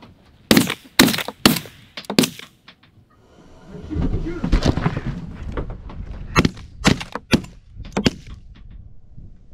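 Several sharp shotgun blasts ring out during a snowy goose hunt from an underground bunker, a quick volley of close cracks, then a stretch of rumbling noise and more scattered shots.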